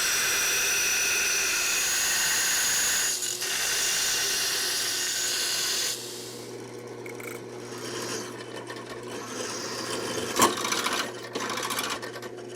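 A metal square is ground down for a Mad Max hammer prop, giving a loud, steady grinding whine for about six seconds with a brief dip midway, then quieter scraping, rattling and a sharp clank.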